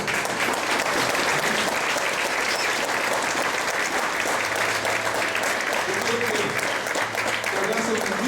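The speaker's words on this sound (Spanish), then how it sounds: "Le damos un aplauso fuerte al Señor." Loud, steady applause fills a church service as the congregation claps for the Lord, with cheers and voices mixed in throughout.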